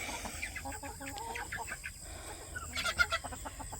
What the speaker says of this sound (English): that big turkey is chasing that little chicken around